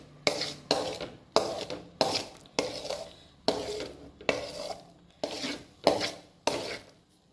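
Almond paste being stirred in ghee in a pan for badam halwa, a steady series of about eleven scraping spoon strokes against the pan, each a rough swish that fades before the next, close and fairly quiet with no talk.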